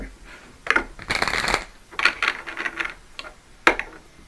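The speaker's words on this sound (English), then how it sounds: "Let me shuffle a little bit more because the cards they want to come out." Tarot cards being shuffled by hand in short bursts of riffling and flicking, with pauses between rounds and a final sharp snap near the end; no talking.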